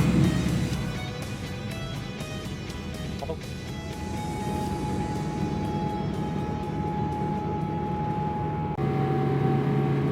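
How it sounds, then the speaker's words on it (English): Inside an American Airlines airliner taking off from Heathrow, a loud steady cabin roar of engines with a sustained tonal whine that shifts pitch near the end, no voices heard. "our flight to Dallas-Fort Worth has finally taken off"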